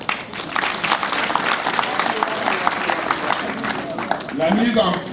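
An audience in a hall in Bafou, Cameroon, applauds during a traditional chiefdom gathering. The clapping is dense and sustained, mixed with crowd noise and some talking, and swells near the end.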